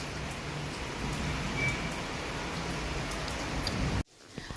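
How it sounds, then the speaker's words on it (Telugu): Heavy rain falls steadily outside as a dense, even wash of noise that continues for about four seconds, then cuts off abruptly, leaving only a faint patter. "బయట వర్షం పడుతుంది కదా చల్లగా"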